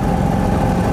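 The single-cylinder four-stroke engine of a Trojan 200 (Heinkel Kabine) bubble car runs with a loud, steady, close-up low drone and a rough, pulsing throb.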